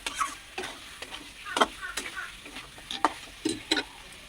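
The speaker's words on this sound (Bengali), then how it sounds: "এবার আমি আর একটু নেড়ে ছেড়ে নেবো কষিয়ে" Mutton being stirred in a pan with cashew and poppy seed paste: soft frying sizzle under repeated scraping and clacking strokes of a spoon against the pan, irregular and close, fairly quiet.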